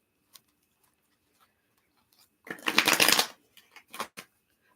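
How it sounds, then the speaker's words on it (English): A short burst of tarot cards being riffled and shuffled, preceded and followed by a few light taps and clicks of cards being handled, with no talking. "Swooping up my deck. Let's get a good shuffle in."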